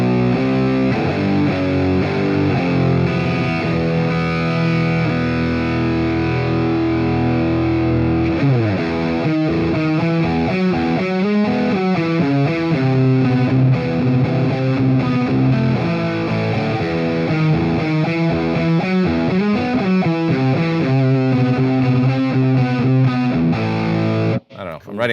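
Electric guitar played through a distortion pedal with a 90s alternative rock tone, thick sustained chords and riffs ringing loud and continuous with no talking, cutting off abruptly at the end.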